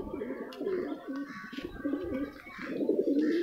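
Racing pigeons coo close by in repeated throaty, rolling bursts with brief pauses between them, joined by a few higher chirps. Nobody talks.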